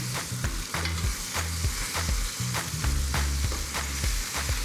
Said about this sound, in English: Once we put them into the pan, we can season the other side.